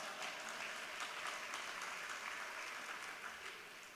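Faint, distant audience applause during a 2018 State of the City address in Stockton. A crowd claps evenly for a few seconds and tapers slightly at the end.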